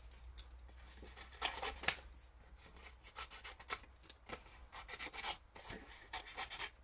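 Scissors snipping and rasping around stamped card images during paper crafting, a series of quiet, close cuts in irregular bursts with no talking.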